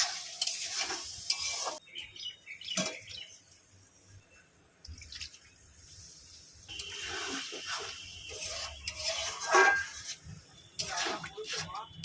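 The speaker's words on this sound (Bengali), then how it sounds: "মশলাটা ভালো করে কষিয়ে নেব" Spice paste with a splash of water cooking in a pan, intermittent sizzling and scraping stir strokes that fade and return, with a voice talking over parts of it.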